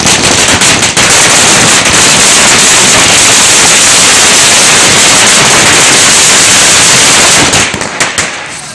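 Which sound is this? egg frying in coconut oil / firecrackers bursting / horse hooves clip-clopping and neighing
firecrackers bursting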